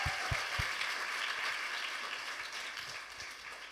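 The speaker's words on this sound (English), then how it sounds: "Clap for Cleaver." A church congregation applauds with a steady wash of clapping during a Sunday service, a few loud claps standing out at the start, gradually thinning toward the end.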